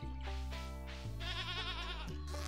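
A goat bleats on the farm in Stardew Valley, giving a few wavering, nasal bleats in quick succession. The calls are moderately loud, close and alone, with no talk over them.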